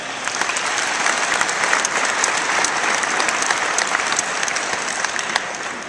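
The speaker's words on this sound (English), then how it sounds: "let's give our faculty a round of applause" Sustained applause for the faculty fills a graduation ceremony hall at a university campus, a dense, steady clapping crowd at full volume for the whole stretch with no talk over it.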